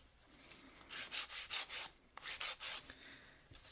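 A nail file rasps back and forth over resin nails in close, quick bursts of strokes, with a short pause midway and no voices.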